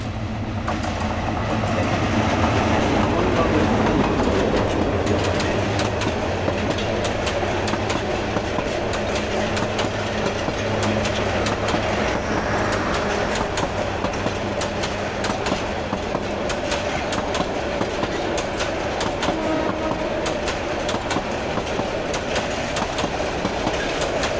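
A Balaka commuter train of Bangladesh Railway, bound for Dhaka, rolls past close by with a loud, steady rumble and a rapid clickety-clack of wheels over the rail joints that carries on for the whole stretch.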